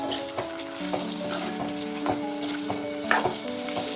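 Spice powders, cumin and coriander, are stirred into an Andhra-style broad bean curry frying in a pan. A steady sizzle runs throughout with soft scraping stirs and a faint tonal hum beneath, and no one talks.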